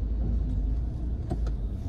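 A car rushing past on the road, a close, steady engine and tire rumble that holds for the whole short moment with a faint rattle; no one speaks.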